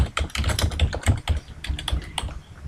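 Rapid clicking of computer keyboard keys, steady and close, with quick uneven keystrokes filling the short stretch without any talk.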